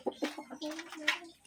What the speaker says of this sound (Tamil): மாடர்ன் கோழியான், சேவல்.